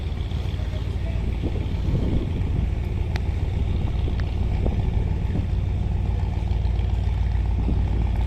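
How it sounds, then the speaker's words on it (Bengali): Surovi 8, a large passenger launch, passes Munshiganj on the river in bad weather, giving a steady low engine and water rumble with wind noise throughout and no speech. "এখন মুন্সিগঞ্জ অতিক্রম করবে লঞ্চটি।"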